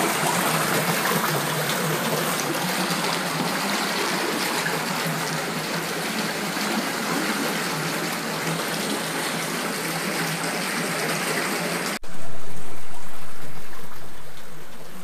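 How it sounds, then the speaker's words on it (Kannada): A natural water spring gushes at the Kesave Ganapati temple, giving a steady, close rushing of water for about twelve seconds before an abrupt cut to a louder, fading splash. "ನೀರಿನ ಬುಗ್ಗೆ ಚಿಮ್ಮುತ್ತಾ ಇದೆ."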